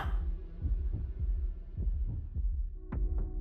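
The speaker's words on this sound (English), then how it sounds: "I woke with a start to the sound of my heart beating in my ears" A steady, muffled heartbeat thumps in a regular rhythm, close and low, under a soft humming drone with no voices.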